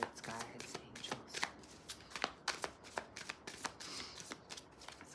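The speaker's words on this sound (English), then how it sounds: "Let's give them a little shuffle." Tarot cards are shuffled in quick riffling bursts, a rapid series of crisp papery slaps and flutters, close and fairly soft in a quiet room.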